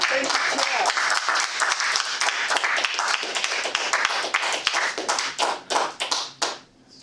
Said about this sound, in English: thanks, Prana, for clapping me off here.